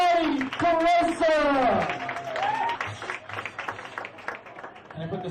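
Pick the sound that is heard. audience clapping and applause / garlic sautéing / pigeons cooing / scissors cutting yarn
audience clapping and applause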